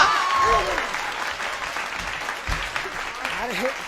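Audience clapping during a Hindi children's chant of 'Akkad bakkad bambe bol', a steady wash of applause running through the whole stretch with voices mixed in.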